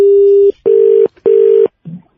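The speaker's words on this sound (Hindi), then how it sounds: "सॉरी भाई साहब, फोन कट गया था।" A telephone's disconnected-call tone plays after a call drops: loud, steady, single-pitch beeps repeating with short gaps between them, heard close and alone.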